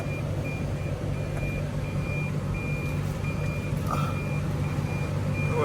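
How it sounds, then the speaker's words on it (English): A rental car backing up sets off a steady series of evenly spaced reversing beeps, moderately loud over a low idling hum, with no talk. "Go ahead and back this thing up."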